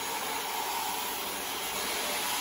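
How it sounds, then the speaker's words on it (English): A hair dryer blows with a constant airy whir and high whine, steady and close throughout, no talking. "So now we basically just use the gentle dryer to dry all her hair off."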